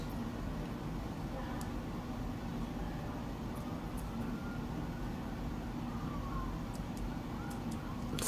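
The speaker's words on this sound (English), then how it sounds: "You hear the sirens?" Distant sirens wail faintly over a constant low rumble of city traffic, with a few small clicks nearby.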